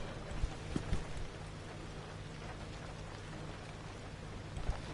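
Rain falls steadily in the survival horror driving game Pacific Drive, a soft even patter on surfaces with a few low thumps near the start and end, fairly quiet and without speech.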